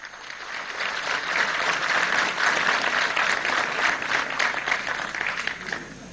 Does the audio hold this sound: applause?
yes